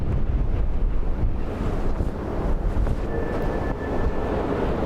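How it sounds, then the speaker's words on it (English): Strong wind from Storm Bram at Dublin Airport buffets the microphone in heavy, rumbling gusts, steady and loud throughout, with a faint distant tone in the background. "the winds are getting stronger"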